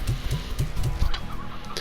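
Roosters in a coop in the Slime Rancher game cluck in a steady run of short, low, evenly spaced calls, fairly close and with no voices over them.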